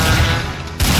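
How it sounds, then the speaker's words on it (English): Gunfire in Garry's Mod plays as a dense, loud burst of rapid shots with a short break, then the firing picks up again. No one speaks over it. "Stop shooting him!"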